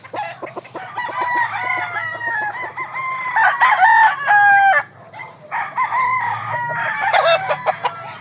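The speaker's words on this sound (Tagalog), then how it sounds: "So, mga manok ko mga idol." Fighting roosters at a farm in Sibulan, Negros Oriental, crowing loudly and repeatedly with clucking between calls, several birds close by and overlapping, with no one talking.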